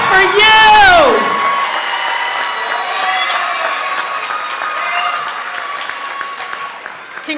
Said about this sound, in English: now I want y'all to clap it up for your family and friends standing around this room